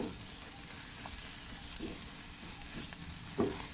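Eggs scrambled and stirred in a hot pan, a steady close sizzle with a few soft scraping stirs and no talking.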